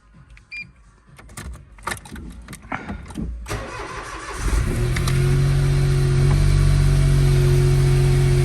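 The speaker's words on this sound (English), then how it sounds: "let's make sure it starts" An MG TF car engine is started after a few clicks and cranking attempts, catching and revving briefly before settling into a steady, loud idle close by.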